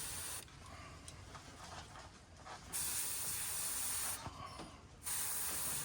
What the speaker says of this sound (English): you just lay it on there and just spray through it